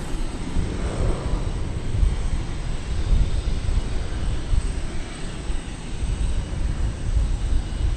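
An airplane on a runway at DFW Airport gives off a steady, broad engine roar that stays loud and even throughout, with no talking.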